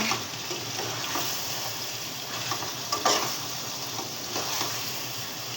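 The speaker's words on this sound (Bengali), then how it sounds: "মুরগির মাংস রান্না" Chicken curry sizzles steadily while being stirred and fried in a pan, with occasional scraping stir strokes and soft clinks over the continuous close frying hiss.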